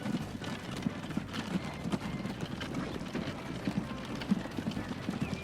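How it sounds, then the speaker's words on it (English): Hooves of a horse pulling a typical American mid-19th-century buggy clip-clop in Transport Fever, a steady rhythmic trot heard fairly close over a low continuous rumble of ambient game background. "This is a like typical American mid 19th century horse and buggy, isn't it?"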